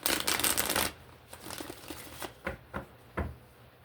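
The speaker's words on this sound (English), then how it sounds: "Let's shuffle." Tarot cards being shuffled by hand, with a dense riffling burst at the start, then a few softer separate flicks and taps, close and fairly quiet.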